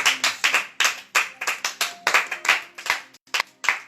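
A church congregation clapping to acclaim the Lord, a rapid uneven run of loud hand claps close by, with no talking.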